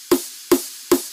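Layered snare drum samples in a music production session: three sharp, loud snare hits fall at an even pace, each with a bright, crisp crack and a short decaying tail, alone without talk.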